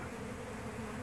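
Honeybees buzz in a steady, faint, low drone at a hive entrance at nightfall in Bradenton, Florida, with no voices over it.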